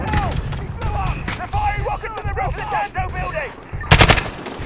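Rapid automatic gunfire in the video game Call of Duty: Modern Warfare (2019), a loud, sustained burst with a sharp closer blast near the end and faint voices in the background.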